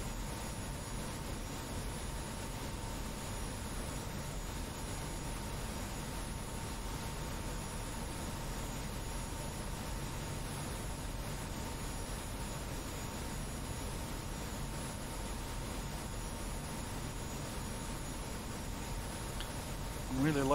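An F-86F Sabre jet in a flight-sim game cruising at altitude, a steady, even engine roar and airflow hiss held unchanged throughout with no voices.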